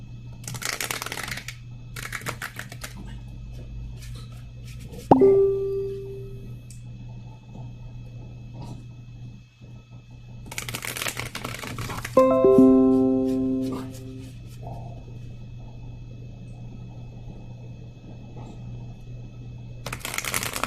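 Tarot cards being shuffled in a few riffled bursts, crisp and close, separated by quieter stretches with a low steady hum underneath.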